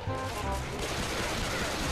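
Dense, continuous gunfire from a shootout in the video game Left 4 Dead 2, a loud, unbroken burst of shots with no pauses.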